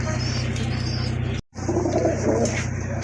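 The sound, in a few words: pigeons cooing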